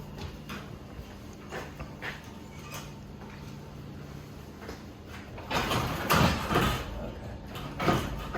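Garage door driven by its opener motor, a low mechanical rumble and rattle that swells and grows louder near the end, with faint clicks and creaks along the way.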